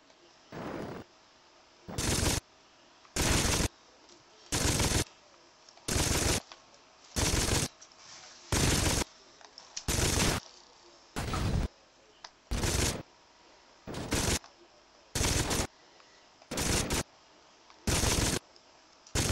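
Game gunfire from Saints Row 2 comes in about fifteen evenly spaced bursts of rapid shots, loud and sharp over a quiet background hum.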